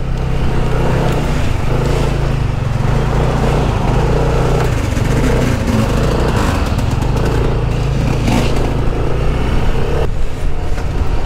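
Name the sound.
Yamaha NMAX scooter engine while riding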